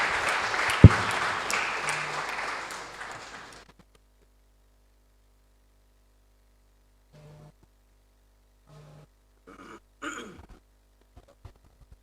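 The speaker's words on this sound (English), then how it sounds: "invite the next contestant, Sien Siu Lin, to the podium with a warm round of applause." An audience at a public speaking contest final gives a brief round of applause to welcome a contestant, which fades out after a few seconds, leaving near silence with faint rustles and a breath.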